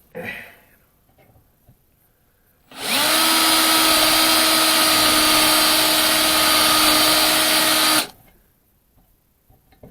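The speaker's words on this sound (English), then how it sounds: "let's get back to drilling here and see if we can get this thing taken apart" A power drill bores out a fender bracket, starting abruptly after a faint quiet stretch and running loud and steady at a constant high whine for about five seconds before cutting off.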